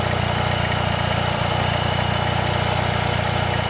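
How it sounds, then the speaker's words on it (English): Boosted 2.3-liter stroker engine in a Mitsubishi Eclipse idling, a loud, steady low rumble with an even pulse and constant hum, close by and uninterrupted throughout. "It idles smooth."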